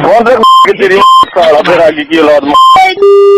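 Short, bright electronic horn blasts and beeps cut in repeatedly between loud overlapping talk, ending on a sustained tone.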